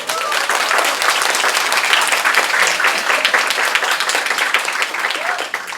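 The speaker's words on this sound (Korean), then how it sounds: "이쯤에서는 박수 한번 주시면 좋을 것 같아요." Audience applause at a talk on the cajon with a flamenco company, a dense, steady wash of many hands clapping close by for the whole stretch, with no voices over it.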